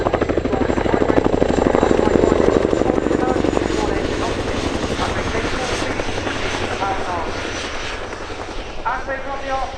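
An RAF Chinook HC.6 tandem-rotor helicopter repositions for a running landing at an air show, its loud pulsing rotor thump and turbine roar filling the air throughout, with a commentator talking over it.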